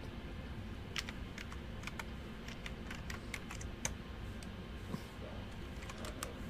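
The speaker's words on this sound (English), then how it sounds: "look out, y'all. I'm typing" Steady, rapid clicking of keys on a computer keyboard being typed on, close and continuous over a low background hum.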